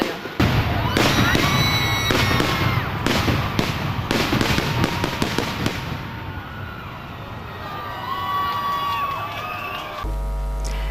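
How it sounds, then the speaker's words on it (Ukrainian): Fireworks at the City Day and liberation day celebration in Lozova: a loud, dense run of booming and crackling bursts, thinning into fizzing crackles, with a faint crowd in the background. "Апогеєм свята став феєрверк, який ви теж зараз можете бачити за моєю спиною."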